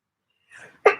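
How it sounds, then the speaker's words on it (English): A single hay fever sneeze, close and loud: a short breathy intake followed by one sharp explosive burst, with no talking. "I'm going to sneeze again."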